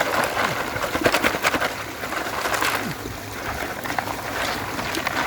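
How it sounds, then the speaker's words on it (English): Water is poured into a gold-prospecting pan holding a classifier, giving a steady close splashing wash with brief surges in the flow and no talk. "Add a little bit of water."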